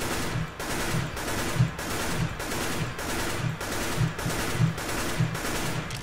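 Rapid bursts of automatic gunfire in the video game CS:GO repeat in a steady rhythm, each burst a quick string of sharp shots, loud and close with no talking.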